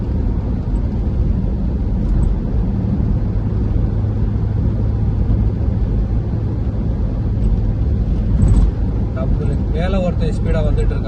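A car cruises on a Saudi highway near Dammam at about 120 km/h, its steady loud road and engine roar continuous throughout, with faint voices near the end.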